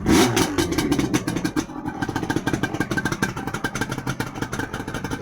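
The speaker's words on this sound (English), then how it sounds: "it does start first kick every time, and it is a beautiful bike." A two-stroke LC motorcycle engine runs steadily close by, its loud, crackling exhaust note pulsing rapidly with a brief rev near the start and no voices over it.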